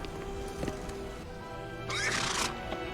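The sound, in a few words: horse neighing as it backs away, in an animated show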